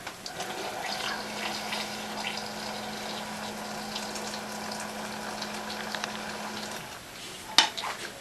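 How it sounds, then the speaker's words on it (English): Hot water pours steadily onto loose tea in a tea maker for about seven seconds, a continuous liquid rush over a low hum, ending with a sharp clink. "You add your hot water."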